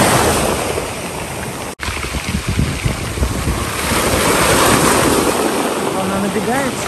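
Steady rushing surf and strong wind noise buffet the microphone, with waves washing in continuously and a faint voice underneath.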